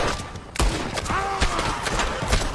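A gunshot landing a headshot in the video game Red Dead Redemption 2, a sharp close report among a few other thumping shots and game sounds, with a faint voice underneath.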